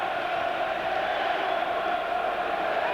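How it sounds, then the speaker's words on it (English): Football crowd in a Premiership stadium at Coventry City versus Arsenal, a steady dense roar of massed voices and cheering that holds at an even level throughout, broad and continuous with no single voice standing out. "And now the crowd cheering because they think he's injured."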